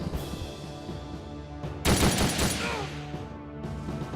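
Turn-based Ghost Recon Shadow Wars attack: a burst of video game gunfire crackles loudly for about two seconds over a steady droning musical score that continues before and after.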